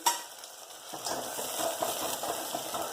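Chopped onion, tomato and coriander hitting hot oil with cumin seeds for a green moong dish, a quiet start giving way to a steady, bright sizzle with stirring that continues alone to the end.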